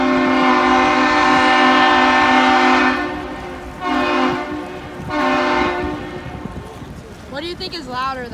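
A cargo ship's horn blasts loud and close in a long sustained tone, then sounds twice more in shorter bursts, with a voice speaking briefly at the end.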